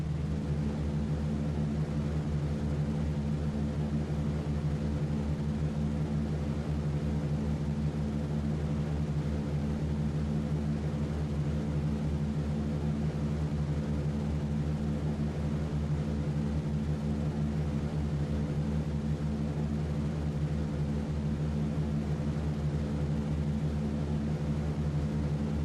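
Steady, unbroken drone of B-17 bomber engines running up for takeoff in a flight video game, a dense, even roar held at constant loudness throughout with no voices.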